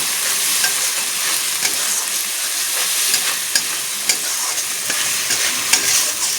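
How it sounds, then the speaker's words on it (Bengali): Chili, ginger paste and chopped tomato sauté in hot oil for a fish dish, a constant close sizzle broken by frequent sharp spits and crackles, with no talking. "যতক্ষণ তেল ছাড়বে না ততক্ষণ আমি সুন্দর করে কষাতে থাকবো"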